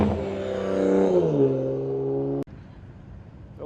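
A car accelerates hard leaving a Cars & Coffee meet in Palm Beach: a loud, close engine roar climbs, shifts and falls in pitch over about two seconds, cuts off sharply, and leaves quieter traffic ambience behind.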